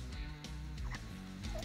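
A fowl-like bird calls outdoors with a low, throaty, gobbling vocalization, fairly faint and close, lasting through the short moment with no talk.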